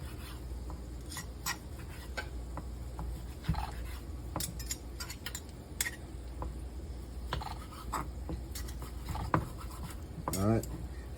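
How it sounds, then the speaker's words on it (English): Knife slicing through cooked medium-well meat on a plate: scattered light clinks and scrapes of metal on dishware, quiet and close, with brief taps and pauses between cuts. "So, I'm going to slice it the rest of the way."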